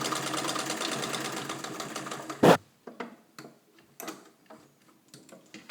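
A Singer 66-18 Centennial sewing machine with a crinkle finish runs on its Singer BT motor, giving a fast, steady mechanical clatter at close range. A sharp knock follows, then the machine falls quiet apart from soft, scattered ticks and clicks.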